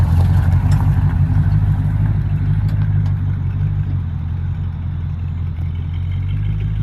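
An old shop truck, off the road for over twenty years and fitted with an Edelbrock carburetor, runs steadily nearby, its engine a loud, even rumble with light clatter, no talking.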